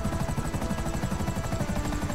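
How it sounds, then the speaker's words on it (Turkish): Helicopter in GTA 5 Online flying overhead, a steady loud rotor chop with rhythmic low thumping and engine whine filling the whole moment, no voices. "Havada yani helikopter."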